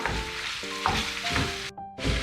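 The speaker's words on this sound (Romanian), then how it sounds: "Carnea s-a rumenit, așa că am pus și miezul de la dovlecei. Voi amesteca" Browned meat and scooped-out round pumpkin flesh sizzle in a frying pan as a utensil stirs them, with scraping strokes over a steady close frying hiss.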